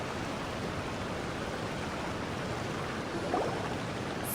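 Steady broadband rush of a waterfall in Genshin Impact, a continuous close roar of falling water with even loudness and no other sounds.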